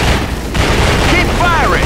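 Gunfire and heavy booms from a combat video game, a dense continuous barrage of shots and blasts with no clear breaks, loud throughout with voices talking over the noise.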